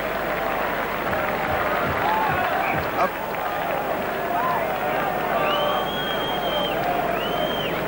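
A rugby crowd applauds and cheers after a try at a Five Nations versus Overseas XV match, a broad, steady wash of clapping and murmur from the stands, with a commentator's voice over it.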